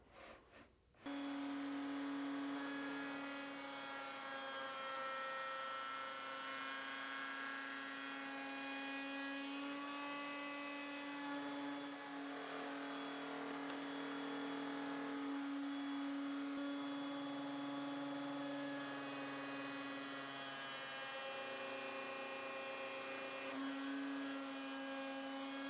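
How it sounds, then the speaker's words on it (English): A router running with dust collection rounds over the edge of a wooden cutting board with a 1.5 inch radius bit in a corner jig, a steady loud whine and rushing roar starting abruptly and holding throughout, pitch dipping slightly as the bit cuts. "I'm going to turn the router on, turn the dust collection on, and then I'll just pull back on this little hand grip right here"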